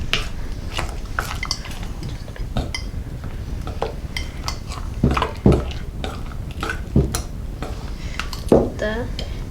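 Homemade slime being mixed in a bowl as it pulls away from the sides, giving sticky squelches broken by frequent clinks of a utensil against the bowl, close and continuous with a few louder knocks.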